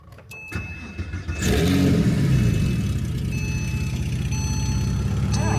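An RWB Porsche 911 starts up after a few sharp cabin clicks, its engine catching and then revving into a loud, steady, close-up drone that fills the rest of the moment with no talk.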